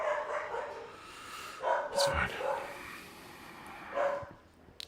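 A pet dog barks in agitated bursts somewhere in the room, with loud yelps clustered near the middle and again toward the end, while a person talks over it.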